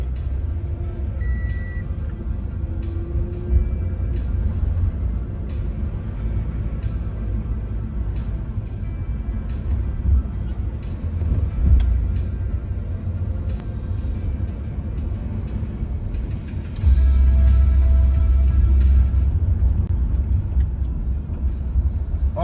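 Car riding through New York City traffic: steady low engine and road rumble throughout, swelling louder and heavier near the end, with faint passing traffic and no talk.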